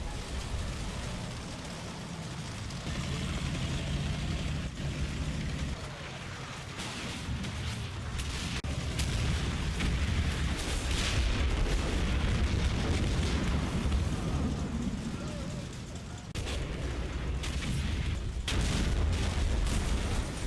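Explosions and artillery fire destroying a King Tiger tank in Combat Mission Final Blitzkrieg, a continuous rumbling barrage of booms and blasts with sharper cracks of gunfire scattered through it, loud and sustained.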